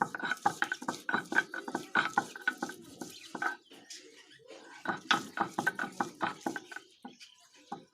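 Ginger being coarsely ground on a stone grinding slab for a duck-egg curry: a steady, rhythmic run of scraping, knocking strokes, close and fairly loud, with a short lull midway before the grinding picks back up.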